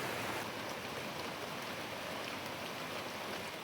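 Heavy unseasonal rain with hail, a steady dense hiss of downpour and pattering drops holding at an even level throughout, with no voices.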